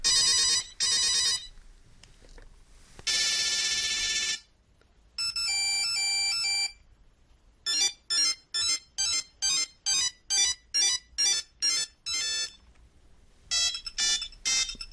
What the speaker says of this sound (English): Ah, the joys of the old ringtones.